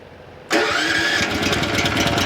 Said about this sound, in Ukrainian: давайте його запустимо з електростартера